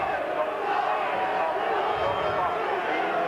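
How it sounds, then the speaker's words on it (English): A large rugby league crowd at Salford in 1995 roars in a steady, dense wash of cheering and shouting from the stands, with a commentator's voice over the top. "the crowd certainly is the best I've seen at Salford for a lot of years"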